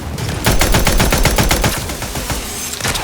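Sustained automatic gunfire in The Outer Worlds 2, a loud rapid stream of shots with a brief lull near the end, no talking over it.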